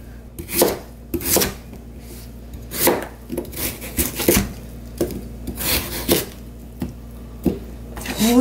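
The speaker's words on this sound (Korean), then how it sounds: "무 하나는 다 썰어 주시고요." A knife chops through radish on a cutting board while baek-kimchi is being made, giving irregular, fairly close, crisp thuds and slices separated by brief pauses and soft scraping. No one speaks.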